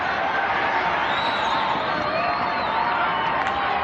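Rugby league crowd at a Penrith home match in 1991 booing the referee, a dense, continuous roar of many voices with jeers and whistles rising through, loud and steady throughout.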